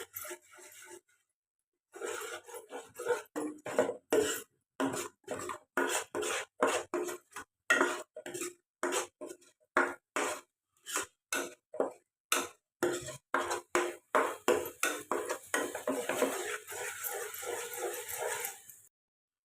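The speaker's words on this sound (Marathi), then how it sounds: "ही चांगली परतवून घ्यायची आहे." Vegetables for pav bhaji being stirred and sautéed in a pan, a long run of regular close scraping strokes, one every half second or so, fairly loud and with no talking.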